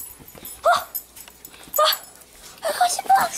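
A dog whimpers in three short, high whining bursts spaced about a second apart, close by, with quiet gaps between them.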